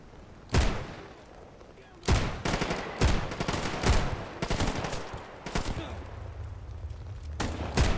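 Gunshots from a weapon in the survival shooter Stalker G.A.M.M.A. Sharp, loud single reports land at irregular intervals over steady background game ambience, with a low hum toward the end.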